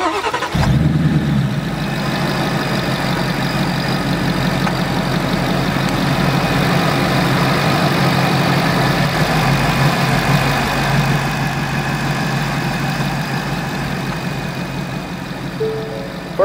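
A Ford fitted with a Roush Active exhaust idles steadily after a brief start-up burst, a deep low rumble holding close and constant throughout with no talking.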